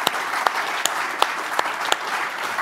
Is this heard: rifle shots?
no